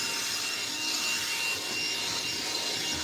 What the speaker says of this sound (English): Yes, I'm vacuuming.